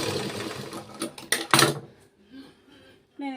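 A sewing machine stitches the lining of a blouse in uneven bursts, with a loud run of needle rattle that stops, then short quieter whirs and a final brief start, faint voice sounds mixed in.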